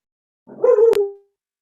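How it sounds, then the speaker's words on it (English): A single dog bark rings out, fairly close and clear, against a quiet background during an online community candidates forum. "Is there a dog I hear?"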